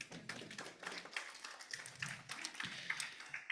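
An audience at an international conference on collaborative negotiation and mediation applauds the regional vice-governor with faint, scattered clapping that comes through as a steady patter of distant claps.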